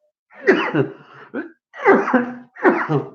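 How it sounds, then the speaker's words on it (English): Three harsh, throaty coughs in close succession, loud and near, with short pauses between them. "I said it, and then I started coughing."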